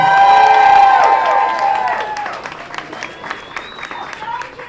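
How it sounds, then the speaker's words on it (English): A large crowd applauds and cheers loudly, the clapping and shouting gradually thinning out over a few seconds. "Give yourselves a round of applause."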